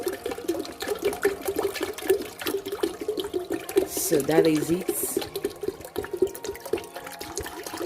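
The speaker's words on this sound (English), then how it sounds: "This is 1 liter, so I'm going to pour it into this brew tea." A liter of brew tea poured from a vessel into a brew tea container, a running liquid splash that swells briefly midway, under a person talking.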